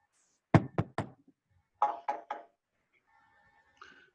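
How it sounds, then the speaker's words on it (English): Knocking on a wooden door in two quick groups of three raps, close and crisp against silence, followed by a faint brief sound near the end. "We hear the sound of someone knocking twice on the wooden door."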